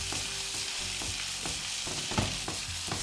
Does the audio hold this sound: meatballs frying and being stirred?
yes